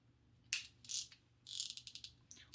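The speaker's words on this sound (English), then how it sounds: "this ratcheting mechanism doesn't sound as good as I thought it used to." Quick bursts of clicking from the ratchet mechanism of a PB Swiss screwdriver, a few short clusters of crisp, close ticks with pauses between them, faint and with no talking.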